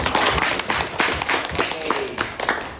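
Students in a classroom clap together in a short burst of scattered, uneven hand claps, fairly close and loud, with no talking.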